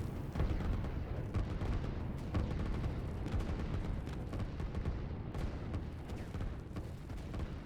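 Artillery in the strategy game Line War fires in dense, continuous booming barrages, loud and rumbling throughout with no clear gaps and no voices.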